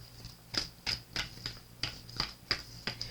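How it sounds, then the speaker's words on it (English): Crisp, regular flicks of oracle cards being shuffled, about nine quick snaps in a steady rhythm, close and fairly quiet with no talking. "So we're shuffling here for some wisdom oracles"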